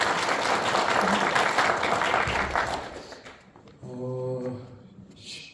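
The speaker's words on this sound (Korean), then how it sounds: "박수 한번 쳐주세요" Audience applause at a residents' briefing on reconstruction and housing-association plans: a full, lively burst of clapping for about three seconds that then fades out, followed by a voice speaking briefly.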